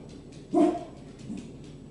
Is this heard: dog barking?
yes